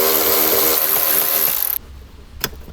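A tool loosens the two 7mm bolts holding a speaker in a 2021-or-later Ford Bronco, making a loud close mechanical whir and rattle that stops abruptly, followed by a brief clunk.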